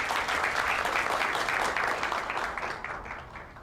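An audience welcomes a speaker to the stage at a conference with loud, dense applause that swells and then fades toward the end.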